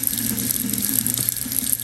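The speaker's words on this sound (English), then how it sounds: "now that we have a stream of water going" A thin stream of water running steadily from a tap into a sink during a static-balloon science experiment, a constant close, fairly loud hiss and splash with no talking.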